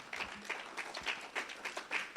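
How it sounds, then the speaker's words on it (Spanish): Clapping from a church congregation at a Friday evening service, a steady run of hand claps at moderate distance, somewhat thin and uneven, with no voices over it. "un aplauso al Espíritu Santo"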